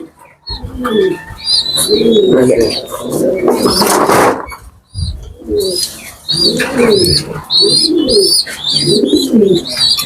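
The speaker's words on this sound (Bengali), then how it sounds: "সব দামি দামি কবুতর ভাই" A flock of prized pigeons kept by a long-time fancier coo in deep, rolling bursts close by, with high chirps and twitters layered over them and a brief noisy rustle midway.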